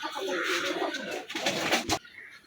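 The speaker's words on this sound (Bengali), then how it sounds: "এখন আপনাদের দেখাচ্ছি সাকি টেডি কবুতরটা" A Teddy pigeon, a Saki Teddy male, coos up close in a loud burst of throaty calls tangled with other sounds, which stops abruptly near the end and leaves a quieter tail.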